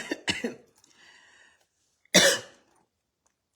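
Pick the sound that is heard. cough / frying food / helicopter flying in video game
cough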